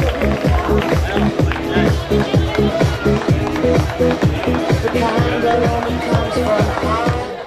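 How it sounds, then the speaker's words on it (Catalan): An audience at a local sports awards gala applauds an award winner, loud dense clapping with rhythmic pulses and crowd noise filling the whole stretch. "Vinga, un fort aplaudiment per ell."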